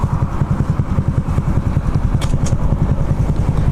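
Raider 150 motorcycle with stock muffler idling nearby with a steady, pulsing exhaust putter, loud and close, with a brief rev near the end.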